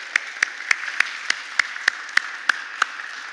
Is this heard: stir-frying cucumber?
no